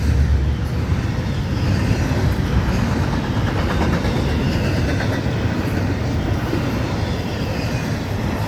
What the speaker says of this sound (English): So it's a normal sized train.